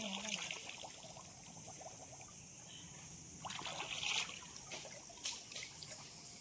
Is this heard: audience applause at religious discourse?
no